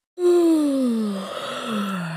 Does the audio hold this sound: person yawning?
yes